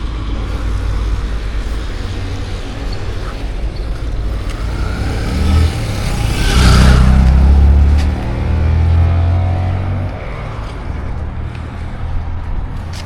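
Steady road traffic on the Dhaka-Sylhet highway near Narsingdi, a continuous low rumble of passing cars and trucks with a louder heavy vehicle swelling past close by midway, no talk.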